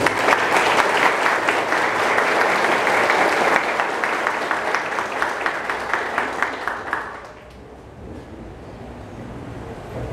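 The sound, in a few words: church congregation applause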